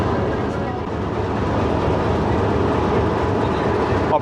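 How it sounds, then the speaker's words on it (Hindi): The 125UP Lasani Express pulls out of a station in Pakistan on the Lahore to Baddomalhi line, a loud, close, steady rumble of rolling carriages throughout. "ऑपरेशनल स्टॉप करने के बाद अब श्री रामपुरा से रवाना होने लगी है ट्रेन।"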